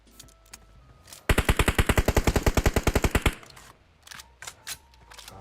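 Rapid automatic gunfire from a PUBG Mobile match, a loud, steady burst of about twenty evenly spaced shots lasting two seconds, followed by scattered quieter clicks and game noise.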